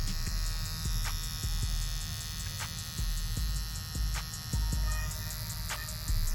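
A Ghost X hair trimmer running close by, with a steady electric buzz and hum and faint periodic clicks throughout.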